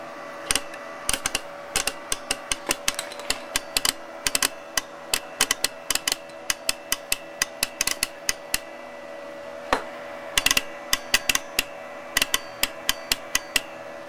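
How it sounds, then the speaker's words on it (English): A relay in a basic light sensor circuit clicks again and again, with sharp mechanical ticks at irregular intervals, some in quick clusters, over a steady electrical hum. The clicks are close and clear. "You hear the relay click."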